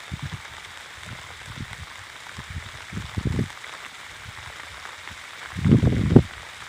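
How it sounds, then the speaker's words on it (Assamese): Heavy rain pours outdoors as a steady, even hiss, broken by a few louder low rumbling bursts near the end. No one speaks. "পুৰা বৰষুণ দিছে"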